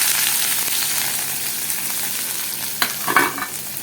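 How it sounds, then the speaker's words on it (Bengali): Onions hit hot oil in a pan where catla fish pieces and potatoes have just been fried, giving a steady, close, loud sizzle with a few brief stirring scrapes near the end. "এবার দেখো পেঁয়াজগুলোকে দিয়ে দিলাম।"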